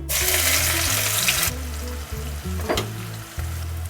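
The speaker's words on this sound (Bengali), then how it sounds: "ডিম ভাজা হয়ে গেলে 2টো কুচনো পেঁয়াজ দিয়ে দেবেন" Two chopped onions hit hot oil left from frying eggs, starting with a loud hissing burst that settles into a steadier, softer sizzle, with background music underneath.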